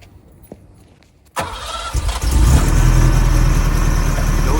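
A 1987 Ferrari Testarossa engine, with 14,000 miles on it, cranks and catches at once, settling into a loud, rumbling idle close to the microphone.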